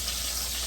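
Butter sizzles and fries in hot oil in a pan, a constant close hiss and crackle without pause.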